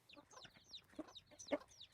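Chickens cluck softly in a farmyard coop, several short, faint calls scattered in quick succession with no talking.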